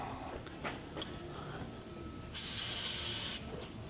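An aerosol spray can hisses in one short burst of about a second while someone works on a 1966 Ford Thunderbird, faint against a noisy background with no talk.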